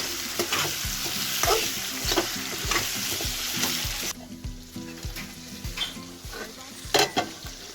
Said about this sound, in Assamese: আলুখিনি অলপ ফ্ৰাই কৰি ল'ম